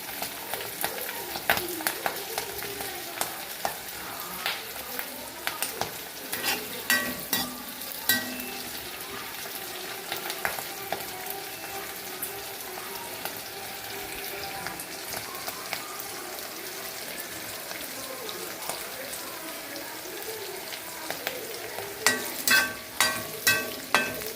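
Onions sautéing in a pan for a tamarind onion dish, a steady close sizzle with scraping stir strokes and occasional clicks of the utensil, running continuously with no voices.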